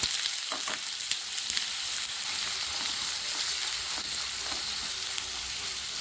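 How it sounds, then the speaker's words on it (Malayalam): Chopped onion sizzles steadily in hot coconut oil in a pan, a continuous close crackling hiss with faint stirring scrapes. "സവാള നന്നായി വഴണ്ടി വരട്ടെ അതുവരെ ഒന്ന് ഇളക്കി കൊടുക്കാം"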